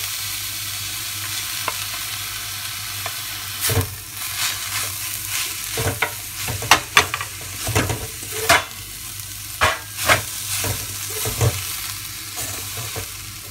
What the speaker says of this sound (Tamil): ரெண்டுமே தனித்தனியாக வெந்துட்டதுனால அடியில் ஒட்டாமல் ஈஸியாக கிண்ட வரும்.